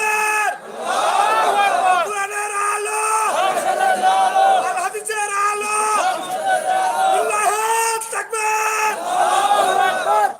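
A large crowd at a religious sermon gathering chants the takbir, Allahu Akbar, in loud, repeated, rhythmic choral calls that rise and fall together over about ten seconds.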